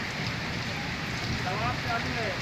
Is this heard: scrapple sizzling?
no